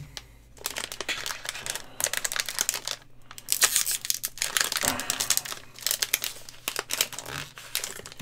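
A Star Wars Destiny Empire at War booster pack wrapper is torn open and crinkled by hand, a dense run of crackling, rustling plastic bursts with brief pauses, close and alone.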